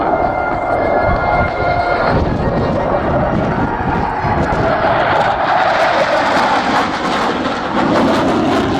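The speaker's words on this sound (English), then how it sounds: "the aircraft gets ready for the second max thrust flypast" A jet aircraft at an air show makes a max thrust flypast: a loud, sustained engine roar that fills the whole stretch, rising and shifting in tone as it passes.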